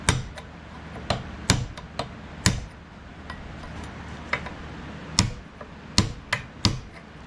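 A hammer strikes a metal punch while restoring an Air Force survival knife. About a dozen sharp, close metallic taps land at irregular intervals, some in quick pairs, with quiet gaps between and no talking.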